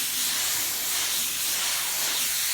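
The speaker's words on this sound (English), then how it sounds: "So let me blow off the moisture here with the air compressor," An air compressor's air chuck blows a steady, loud hiss of compressed air across wet car paint to clear moisture during a sealant comparison, continuous and close with no talking.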